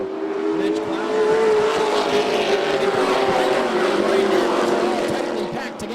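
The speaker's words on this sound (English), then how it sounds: "It's 6 trucks now, pretty much nose to tail at this point, as they go down the back straightaway" Asphalt pro trucks race on a dirt track, their engines packed together in a loud, sustained roar with rising and falling revs as they pass, heard from the stands.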